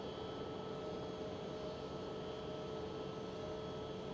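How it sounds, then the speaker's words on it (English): An Aer Lingus jet on runway 24 at Schiphol Amsterdam produces a constant, broad engine roar, heard from a distance without any talk. "Next one on the runway here, on runway 24, is Aer Lingus"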